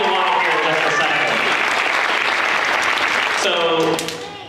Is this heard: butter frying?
no